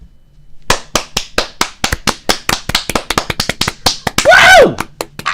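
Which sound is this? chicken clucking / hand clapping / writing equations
hand clapping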